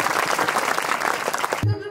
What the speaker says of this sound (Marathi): दोघांसाठी जोरदार टाळ्या वाजवायच्या